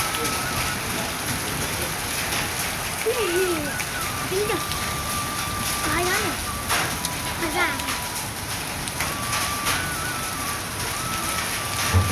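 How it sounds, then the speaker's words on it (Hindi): Steady rain pours down in Chakswari, Mirpur, with a dense hiss of drops, while birds chirp faintly in the background now and then. "हाले भी बारिश जारी है"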